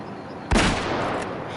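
A single sharp rifle shot in the hunting video game Way of the Hunt, a loud close crack with a booming low thump that rings out and trails into a long, steady reverberant tail across the landscape.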